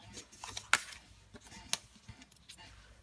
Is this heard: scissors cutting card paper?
yes